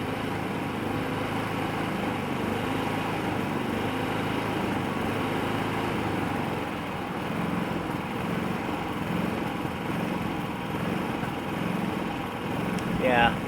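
Predator 3500 portable inverter generator engine idling after about five minutes of running: a steady, close, buzzing drone with a slight rise and fall in pitch, running the whole time.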